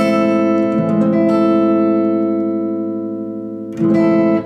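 A guitar rings out a sustained minor major seventh chord, bright and close, decaying slowly before the chord is strummed again near the end.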